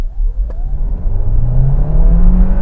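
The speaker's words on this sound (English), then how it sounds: "Bit of noise when you rev it out, this engine" A Kia Sportage (2022) engine revs hard during a full-throttle 0-60 launch, its steady climbing drone rising in pitch as the car accelerates, loud and close with no talk.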